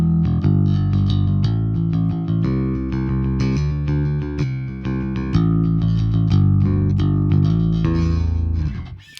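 A Dunable R2 bass on its bridge pickup with the tone fully open, run straight into a Kemper Ampeg 810 profile, plays a steady stream of gritty, distorted chords and notes for about nine seconds with no voices.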